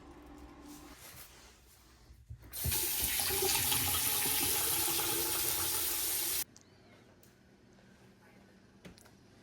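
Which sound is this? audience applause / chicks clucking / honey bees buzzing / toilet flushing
toilet flushing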